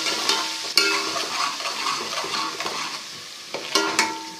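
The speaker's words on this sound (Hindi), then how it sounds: "हम लहसुन अदरक का पेस्ट शामिल करते हैं, और इसको अच्छे तरीके से भून लेते हैं" Garlic ginger paste fries in hot oil with a close crackling sizzle, punctuated by several sharp clinks and scrapes of a spoon against the pan, fairly loud, no voices.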